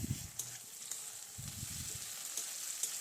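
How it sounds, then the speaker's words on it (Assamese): Onion sizzles and fries in hot oil with ginger, garlic and cumin paste and green chillies, a soft steady crackle close by with occasional stirring scrapes, no talking. "এতিয়া ইয়াতে আদা, নহৰু আৰু জিৰাৰ যিখিনি পেষ্ট আছে সেইখিনি দি দিম।"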